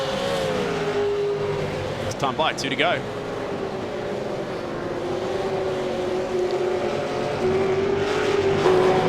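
Race cars passing on a circuit in a close touring-car battle, a steady engine drone with brief louder passes, under continuous commentary.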